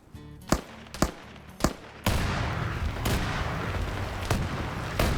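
Video game gunfire from 7.62 rounds in a competitive PvP match: three sharp, separate shots, then a dense, sustained burst of fire with recurring louder cracks, loud and close, with no talk.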